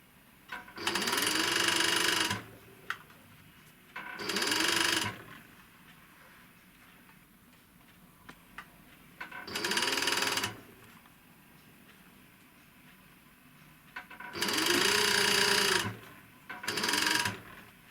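A sewing machine stitches a seam on a lace blouse in five separate bursts, each a quick whirring run of a second or two, with quiet pauses between them.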